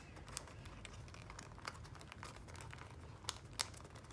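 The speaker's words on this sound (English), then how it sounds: "you just want to fold these two flaps inside the pockets to complete our" Paper origami flaps tucked into pockets to close an icosahedron, heard as faint, quiet crinkles and soft taps spread sparsely through the clip, with a couple of sharper clicks near the end and no voice.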